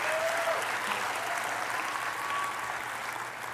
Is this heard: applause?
yes